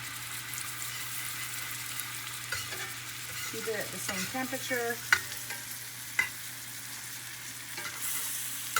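Butter sizzles and crackles steadily in a pan, with a few brief clinks and a low voice murmuring over the frying.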